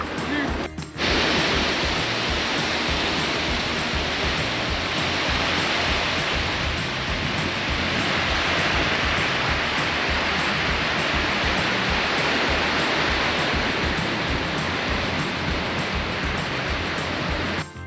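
Strong sea waves at a shallow, rocky fishing spot in Cauayan, a loud continuous roar of surf after a brief quiet start, dense and unbroken throughout.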